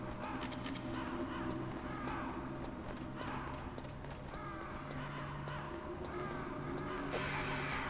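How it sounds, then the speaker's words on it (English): Several crows caw repeatedly in the Metal Gear Solid video game, harsh calls in irregular bursts over a steady low game ambience and horse-like hoof clopping, with no talk. "Still got these crows about."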